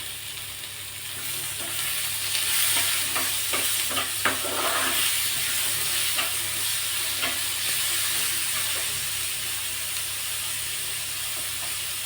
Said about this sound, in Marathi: कांदा थोडासा परतला आहे आता यामध्ये आपण एक बारीक चिरलेला टोमॅटो सुद्धा टाकून घेणार आहोत